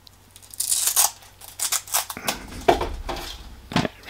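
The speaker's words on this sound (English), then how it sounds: "Ooh, Velcro. It's Velcro together." A Velcro strap is pulled apart on a compact UK-made camping stove, giving a series of short, close, rasping rips and crackles at fairly low volume with no talking.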